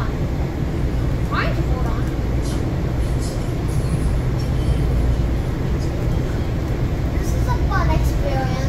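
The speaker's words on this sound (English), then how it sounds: "During work days, this train right now would be really crowded." Continuous low rumble of a moving Washington, DC metro train car with occasional squeals and rattles, steady throughout, with voices murmuring under the ride noise.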